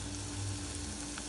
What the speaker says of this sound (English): We will fry this until both sides are golden brown